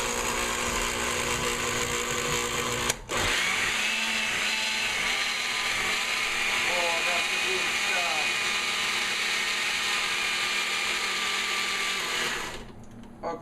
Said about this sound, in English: this funny blender does not have a lid